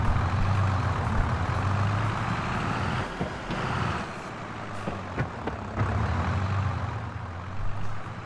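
A high-power tractor engine in Farming Simulator 22 rumbles steadily with a low drone, rising and falling as it revs, with a few hissing air-brake-like bursts and clanks.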